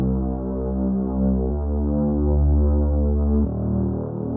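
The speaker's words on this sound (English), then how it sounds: "So what I like to do is just pitch them up an octave" Sustained synth bass notes from a Creeper Drone patch, pitched up an octave, in a slow electronic arrangement; warm, steady, droning tones change pitch twice, with no talking.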